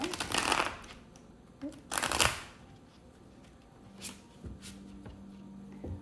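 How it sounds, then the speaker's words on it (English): Tarot cards being shuffled, two or three loud riffling bursts up close followed by softer card slaps and handling, with no talk over them. "let's pull some tarot"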